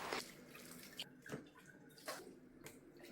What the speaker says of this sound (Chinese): 解冻好，再用清水冲洗干净。